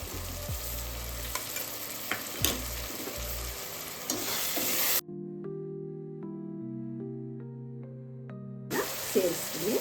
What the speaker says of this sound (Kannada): ಈಗ ನಾನು ಶುಂಠಿ ಬೆಳ್ಳುಳ್ಳಿ ಪೇಸ್ಟನ್ನು ಸೇರಿಸ್ತಾ ಇದ್ದೀನಿ